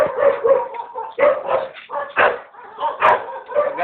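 A dog barks again and again in close, loud bursts, with yips and whimpering mixed among the barks.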